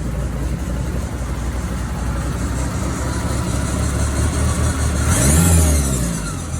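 A Ford Mustang SVO's 2.3-liter turbo four-cylinder with a roller cam idles steadily and loudly up close with the exhaust cutout closed, then builds into a single sharp rev near the end before settling.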